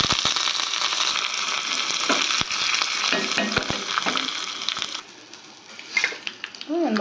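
Dry red chillies and curry leaves sizzle and crackle in hot oil as a tempering for curd rice, with scraping stirs and a few metallic clinks, loud at first and then fading.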